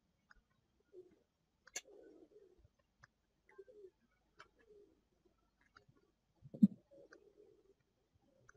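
Pigeons coo softly inside their pigeon house, a few low, quiet rolling calls spaced across several seconds, with a louder coo near the end and faint clicks between.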